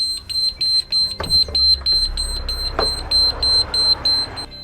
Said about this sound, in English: If you hear this alarm sounding during normal service, you should investigate immediately.